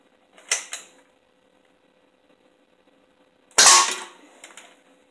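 A small Nerf blaster fires foam darts at a can in two separate bursts, each a sharp snap with a short rattling tail, the second louder and closer, with silence between; no talking.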